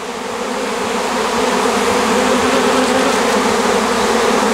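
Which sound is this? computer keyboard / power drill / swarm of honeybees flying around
swarm of honeybees flying around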